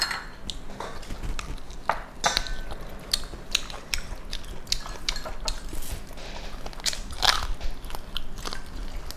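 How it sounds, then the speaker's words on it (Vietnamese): Someone chews braised duck wing with Vietnamese sour fruit and taro, producing close, wet crunching bites and smacking in an irregular rhythm throughout, with occasional light clinks of cutlery in the background. "Nhai."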